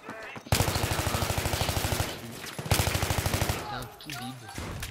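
Rapid automatic gunfire from the video game Battlefield, two loud sustained bursts with a short pause between, then scattered quieter game sounds and faint voices.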